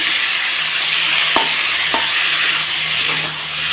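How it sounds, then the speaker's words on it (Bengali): Bata fish with vegetable stems and spices stirred in a sizzling frying pan, a continuous loud fry hiss with a few distinct scrapes and clinks of the spoon against the pan. "ভালোভাবে দেখো নেড়ে নিচ্ছি মশলা দিয়ে"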